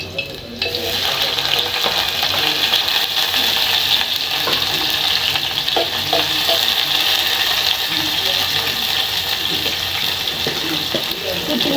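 Onions fry in a pan for a fried beef stew, giving a steady, hissing sizzle that holds at an even level throughout. No one speaks over it.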